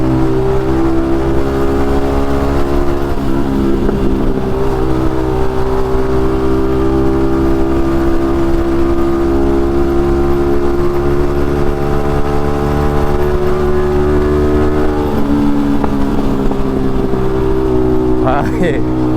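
A Yamaha MT-15 motorcycle fitted with an Akrapovic exhaust idles and revs loudly and close, a deep steady drone with rising throttle blips near the end, with someone talking over it.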